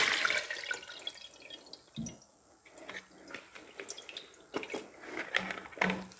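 Pitted olives being drained, with liquid dripping and splashing in short irregular bursts and soft trickles at close range, separated by quiet gaps.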